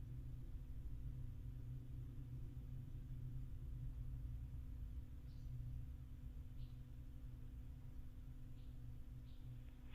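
Northrop Grumman Minotaur 1 rocket launching from NASA Wallops, heard as a faint, steady low rumble from far away, with a few soft clicks on top.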